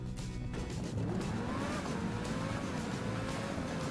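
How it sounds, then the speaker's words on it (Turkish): A video game race car roars as it accelerates hard toward 300 km/h with its rear spoiler raised, a loud continuous engine whine rising in pitch over faint tire noise. "Arabanın sesini duyuyor musunuz?"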